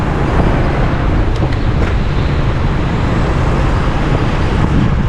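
Road traffic with cars in Vientiane, Laos, heard as a loud, continuous rumble of engines and tyres on the road, close and steady throughout with no talking.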